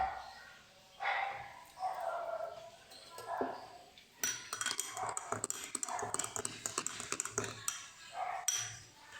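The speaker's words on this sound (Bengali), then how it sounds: "তো ওপরে বাদামটা দিয়ে কিন্তু আমরা এটাকে একবার ঘেটে দেব" Almonds stirred into lassi in a glass, quick clinking and scraping taps of a spoon against the glass in a busy cluster, preceded by someone speaking.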